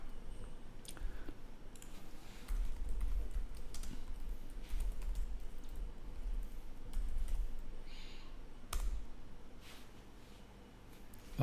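Fairly faint computer keyboard typing in a quiet room while working in Windows Server 2022, with scattered key clicks over a low background hum and no speech.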